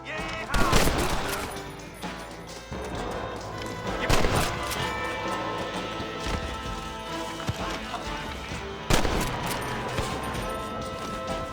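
Gunfire from a shootout in the Red Dead Redemption video game, heard as several loud sharp shots spread across the scene over background music and ambient game sound.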